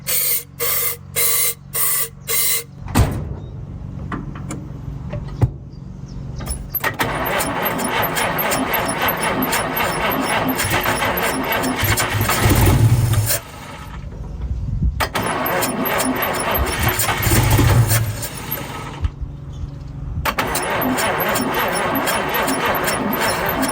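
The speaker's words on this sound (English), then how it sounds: "So the car does have a push button to start it" A 1952 Chevrolet 235 inline-six started by push button after years of sitting: several short cranking bursts, then the engine catches and runs loudly, stops, and is restarted into a steady close idle.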